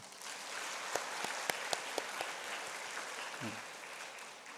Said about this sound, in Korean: 한번 박수 좀 쳐줘요.